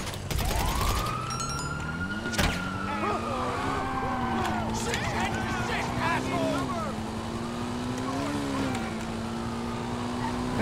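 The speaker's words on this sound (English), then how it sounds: "See that? That's a police car." A police car siren in GTA 5 Online wails in a long rising and falling sweep, loud and close, with engine and street noise beneath it throughout.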